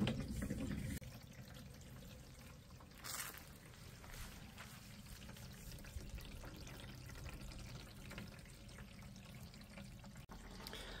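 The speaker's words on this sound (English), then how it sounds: "I'm going to fill up the water for the dishes." Water runs steadily from a rainwater tank tap into a sink or basin for dishes in an off-grid tiny house, a continuous gentle pour with a small splash near the start.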